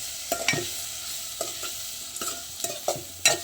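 A spoon stirs a spiced rice mixture for Gujarati rasiya bhaat in a pan, a series of sharp scraping clinks spaced irregularly over a soft low sizzle, close and fairly loud with no voices.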